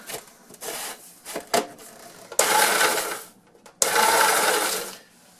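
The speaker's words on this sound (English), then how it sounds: "So I'm going to grind it down some more" Graham crackers being ground down into crumbs in a grinder: two loud sustained bursts of whirring, grinding noise, preceded by scattered clicks and rattles of handling, close up with no talking.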